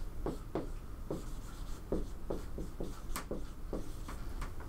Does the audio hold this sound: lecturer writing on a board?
yes